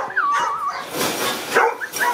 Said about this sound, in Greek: βλέπεις, αρχίζει να γαβγίζει